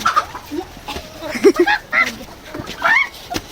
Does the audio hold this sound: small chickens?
yes